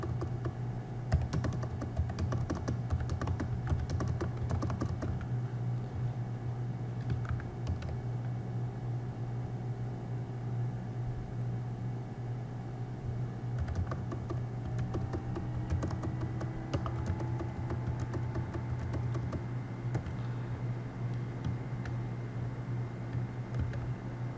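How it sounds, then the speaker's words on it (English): Typing on a computer keyboard: a steady run of soft, close key clicks over a constant low hum from a fan or room noise, with no one speaking. "let me quickly type an array here"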